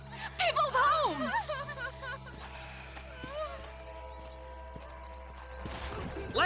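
Horse hooves clip-clop rapidly in the video game Red Dead Redemption, beneath a whinny and shouting voices, with rumbling game background sound throughout.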